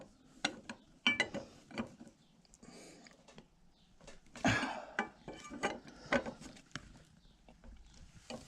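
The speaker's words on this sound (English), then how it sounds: "we're going to torque this back to where it's got to go" A ratcheting tool torques an AR-10 upper part at the bench, giving a run of close, sharp clicks and metallic ticks in uneven bursts, with short pauses between strokes.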